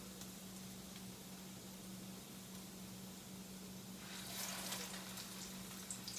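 Homemade salmon croquettes fry in a skillet with a faint, steady sizzle over a low hum, the crackle growing brighter and busier near the end.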